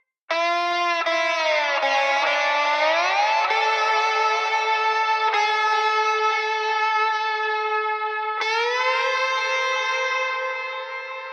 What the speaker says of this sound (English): Spaced Out, the lush effects processor combining reverb, delay, and modulation into one plugin